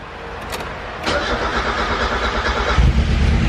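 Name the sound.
old Mazda Miata engine starting with new fuel lines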